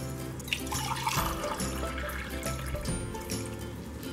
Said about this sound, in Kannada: ಸೊ ನಾನಿಲ್ಲಿ ಎರಡು ಗ್ಲಾಸಷ್ಟು ನೀರು ಹಾಕೊಳ್ತೀನಿ.